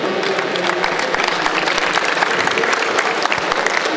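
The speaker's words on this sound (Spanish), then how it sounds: "Le damos un aplauso, por favor." Dense, steady applause from a large audience, many hands clapping together at an even loudness throughout with no voices standing out.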